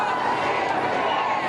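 Crowds cheering King Charles on a visit to Northern Ireland, a dense, continuous roar of many voices that holds steady and close.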